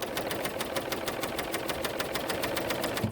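A BERNINA L890 serger stitches fabric along its seam guide, making a fast, steady, even mechanical chatter of needle strokes at close range, continuous throughout.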